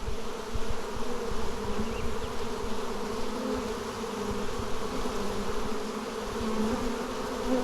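Honeybees swarm around a hive that has been opened and disturbed, a loud, continuous, close buzzing drone with shifting pitches and individual bees darting near.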